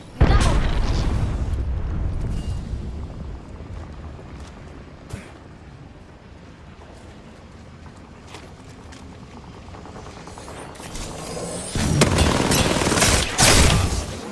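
Gunfire and explosions in a battle-royale video game: bursts of shots and sharp blasts over a steady background, with a loud cluster of detonations and rapid fire near the end.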